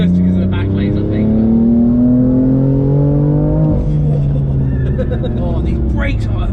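A turbocharged 700 BHP BMW M4 engine revs up hard under load on boost, its pitch climbing steadily before easing off, close and loud, with a voice talking over it.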